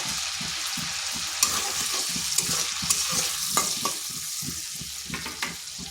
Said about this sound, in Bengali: আদা রসুনের পেস্টটা একটু ভেজে নিচ্ছি যাতে কাঁচা গন্ধটা চলে যায়